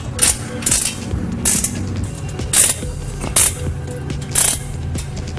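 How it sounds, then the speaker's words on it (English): A ratchet wrench tightens the bottom bolts on a 700 whp Ford GT500, giving bursts of rapid metallic clicking repeated several times, close and loud over a steady background hum. "What we're doing now is just tightening up all the bottom bolts."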